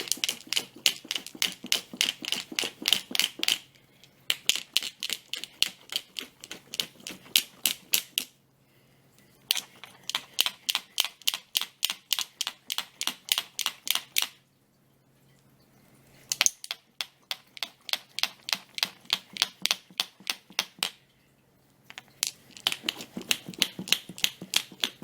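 Glass marbles and cloth pads shaken hard inside a mason jar of rinse water make rapid, rhythmic clattering rattles, loud and close, in bursts of several seconds separated by short pauses, with no talking.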